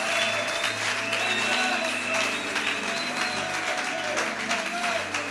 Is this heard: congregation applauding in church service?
yes